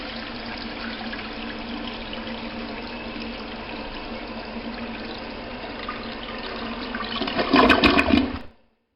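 A 1992 Cadet toilet flushes with a steady close rushing of water that swells into a louder gurgling surge near the end, then cuts off abruptly.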